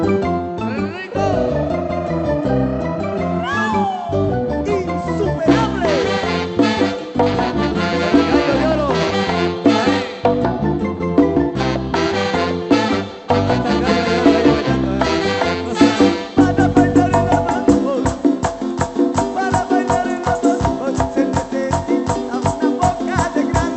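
Live orchestra pumps out dense, driving merengue dance music at a gathering in San Pedro Jocopilas, with steady rhythmic beats, layered instruments and brief shifts in the groove throughout, loud and continuous.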